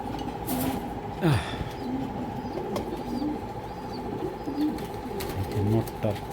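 Racing pigeons coo in a loft: repeated low throaty calls with occasional wing flaps over a steady background hum. Someone talks through much of it.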